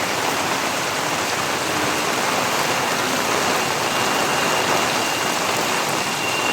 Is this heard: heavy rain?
yes